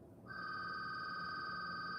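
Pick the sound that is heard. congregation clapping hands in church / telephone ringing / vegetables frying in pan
telephone ringing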